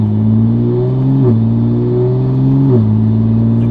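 Toyota Supra engine revving hard and loud, its steady drone stepping down in pitch at two quick upshifts before climbing again.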